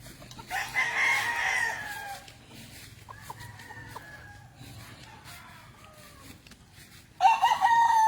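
Chickens and a rooster on a big orange farm in the Philippines: a loud crow opens, then scattered clucking and softer calls continue, and a second strong crow bursts in near the end, all fairly close with no talk.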